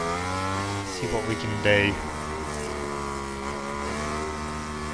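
Valentino Rossi's motorcycle in MotoGP 20 on the Italian GP circuit, its engine whining with rising and falling revs and a quick blip around a downshift, heard under a voice speaking briefly.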